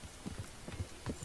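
A horse's hooves thud in a quick, even trot in the medieval game Kingdom Come: Deliverance near Talmberg Castle, a short run of soft, low beats with no talk over them.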